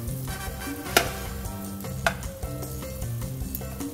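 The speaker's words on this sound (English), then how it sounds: "when you have hot sizzling butters just jumping over you" Butter sizzles steadily in a hot pan nearby with broccoli for chicken broccoli curry, with a couple of sharp clinks of a utensil against metal.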